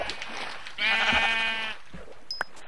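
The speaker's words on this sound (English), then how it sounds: "The sheep goes further out when I kill it." A sheep in the Minecraft video game bleats once, a clear harmonic bleat mid-clip, followed by a couple of faint game clicks and a short high tone.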